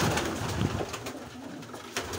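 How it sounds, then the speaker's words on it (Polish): A pigeon coos softly, a low throaty murmur with a brief rustle and outdoor background noise. "To był gołąb."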